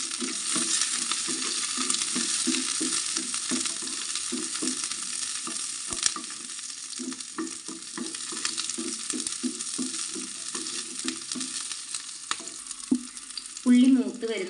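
Shallots and garlic sizzle and fry steadily in a pan of oil for jackfruit seed chammanthi, with rhythmic stirring scrapes running through the continuous crackle and a brief louder clatter near the end.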